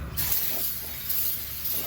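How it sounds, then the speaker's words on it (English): Brake cleaner sprayed onto new brake rotors for a 2002 Chevy TrailBlazer, a steady close aerosol hiss lasting nearly two seconds with slight fluctuations. "you want to make sure that you spray them down with brake clean and clean them off"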